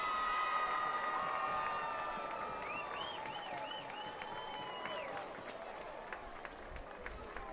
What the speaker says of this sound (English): Fans, a big round of applause for the Essex Yellow Jackets here tonight.